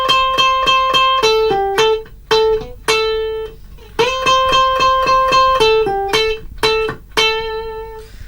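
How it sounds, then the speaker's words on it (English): A bright electric lead guitar line plays alone, a quick melodic run of picked notes with brief pauses between phrases, clear and close. "The lead guitar part that Red is playing is probably the main feature of this section"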